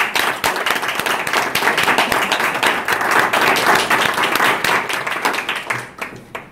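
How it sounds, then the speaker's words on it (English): An audience claps steadily and loudly for several seconds, a dense round of applause that tapers off at the end. "Could I please hear a round of applause for Kai?"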